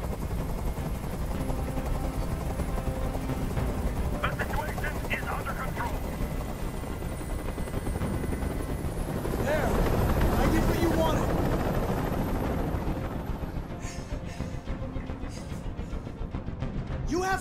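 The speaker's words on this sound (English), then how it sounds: "Tell that helicopter to get out of here." A helicopter hovers overhead in the video game Detroit: Become Human, its dense rotor rumble filling the whole stretch loud and steady, swelling briefly midway before settling back.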